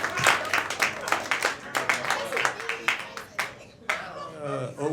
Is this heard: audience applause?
yes